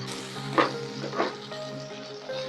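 Chana dal, shallots, curry leaves and dried chillies frying in oil in a pan, a steady close sizzle with a couple of brief louder crackling bursts as ingredients are stirred, no talking.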